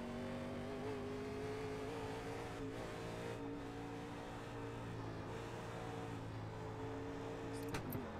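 Steady drone of a 1987 NASCAR stock car engine in the iRacing simulator at Daytona, holding a sustained pitch with slight shifts and a brief change near the end, continuous and fairly loud with no voices.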